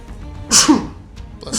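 One sharp, close sneeze bursts out, followed by a short breathy intake and faint room noise.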